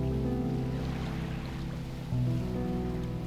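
A fishing boat in the video game Dredge undocks and moves off across the water, a steady low engine drone with soft water wash that shifts and swells partway through, no talk over it.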